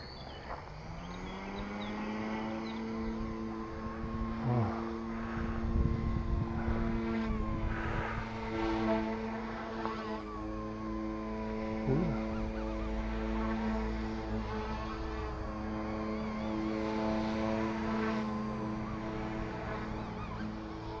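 An XK K130 RC helicopter flies nearby, its rotor and motor giving a loud, continuous whine with steady tones that rise and shift slightly over the whole stretch, with no speech.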